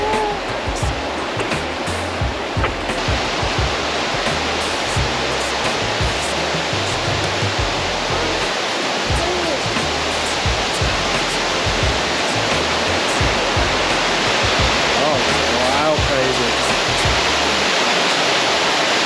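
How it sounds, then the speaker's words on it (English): Big Burn waterfall on Scotland's east coast along the NC500 route: a steady, loud, close rush of falling water, continuous throughout with no voices. "what do you think of this waterfall?"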